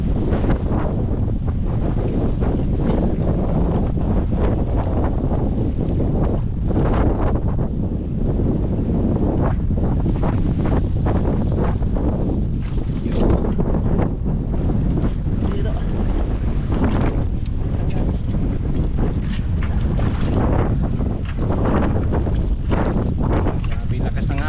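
Strong wind roars steadily across the microphone, a constant heavy rumble with water sounds beneath and faint voices now and then.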